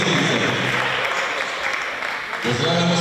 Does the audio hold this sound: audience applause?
yes